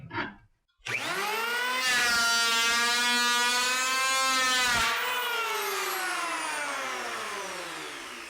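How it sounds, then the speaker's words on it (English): A handheld power planer spins up and cuts across a plywood sheet, a loud steady whining roar with a harmonic buzz that holds for several seconds, then winds down as the pass ends. "let's give it a shot with the power planer"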